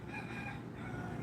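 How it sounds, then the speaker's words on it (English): A rooster crows at a distance, faint and drawn out over a low background hum, with no one talking. "as you listen to the roosters in the background"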